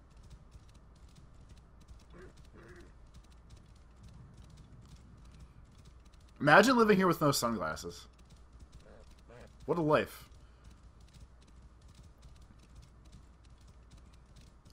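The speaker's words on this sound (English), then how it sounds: "Does this horse have blinders on? No? He's just running tough." A horse gallops in the video game Assassin's Creed Origins, with faint, steady rhythmic hoofbeats running under the game's ambience while someone briefly talks over it.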